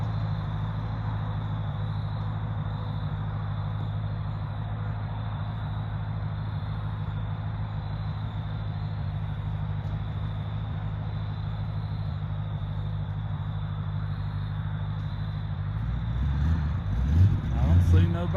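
An old truck, back on the road after more than twenty years off it, runs steadily with a loud, low rumble throughout as it backs up, swelling and revving near the end; no talk is heard.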